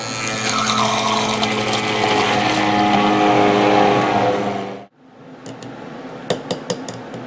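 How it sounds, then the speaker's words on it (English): A loud, steady immersion blender whir runs for several seconds blending a watermelon margarita with tequila and triple sec, then cuts off abruptly, followed by a few light clinks and taps. "I only use my immersion blender"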